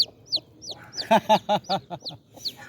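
A chick said to have four legs, a chicken, clucks in a series of about a dozen short, close calls, with a louder cluster in the middle and sharp high chirps between them.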